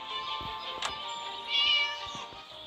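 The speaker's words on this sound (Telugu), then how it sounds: "మీదనే ఉంది కదా పిల్లి." A cat meows once, briefly and fairly close, over a steady high-pitched background hum, with a few soft knocks around it.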